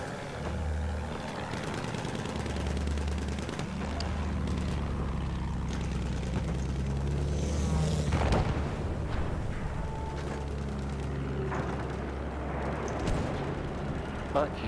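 Video game gunfire during an online multiplayer match, with a plane and a boat in the fight: dense booming shots and explosions run continuously beneath the talk of players.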